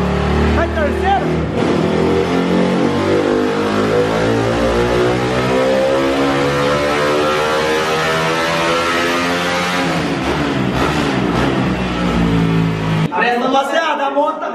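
Honda Titan 150 motorcycle with a 70 mm engine revving hard on a dynamometer, its pitch climbing steadily through the gears in one long loud pull that stops abruptly near the end, with voices talking over the engine.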